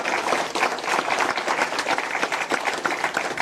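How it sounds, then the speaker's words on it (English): A debate audience breaks into steady, full applause for a panelist, dense clapping holding evenly throughout. "A round of applause,"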